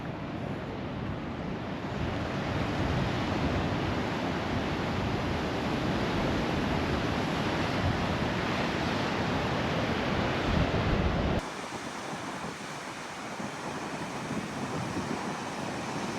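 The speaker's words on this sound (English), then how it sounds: "I can hear the ocean" Steady, loud roar of ocean surf breaking on a beach on Australia's island state, a continuous wash of waves with wind buffeting the microphone, fading slightly softer near the end.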